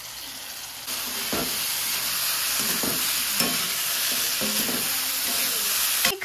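Momo filling sizzles and hisses steadily in a hot pan after soy sauce goes in, with a spatula scraping and stirring it in regular strokes, close and loud.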